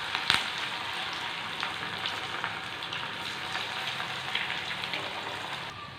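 An evening snack deep frying in hot oil, a continuous bright sizzling crackle with small bursts of bubbling and a sharp clink near the start, heard close and without voices.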